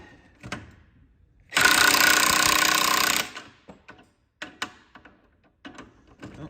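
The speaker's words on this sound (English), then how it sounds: "So now we should just have to use the press." A shop press forces a suspension bushing on a 1991 Pontiac Firebird, with a steel bushing and socket as spacers: a loud, steady mechanical roar lasting about two seconds, then scattered metallic clanks and knocks close by.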